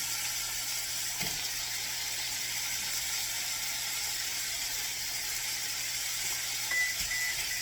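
Cheesesteak meat and onions sizzle in a pan as a steady, even hiss, with a few faint clicks and no talking.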